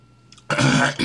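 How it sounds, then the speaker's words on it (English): A man clears his throat once, a short harsh rasp up close, preceded by a faint small sound and quiet. "clear your throat again"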